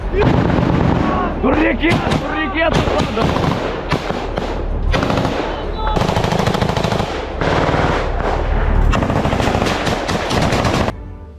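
Battlefield gunfire and explosions in the Russia-Ukraine war near Pokrovsk, with loud rapid machine-gun bursts, heavy booming blasts and continuous crackling shots filling the scene, and a voice heard in places.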